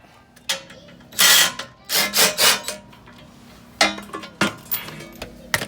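An 18mm socket on a ratchet works loose the skid plate bolts under a Jeep JK, giving short bursts of rasping, clicking metal strokes with pauses in between, close and fairly loud.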